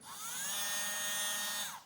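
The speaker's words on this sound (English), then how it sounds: "what I used was a little cordless Dremel type tool" A small high-pitched cordless Dremel-type rotary tool with a sanding disc whirs up, runs steadily for a moment, then winds down, close by with no talking.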